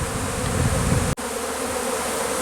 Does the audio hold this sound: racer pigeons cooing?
no